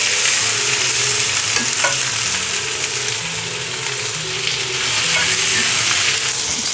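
Chorizo frying in a wide pan, a steady loud sizzle with occasional stirring scrapes and no talking.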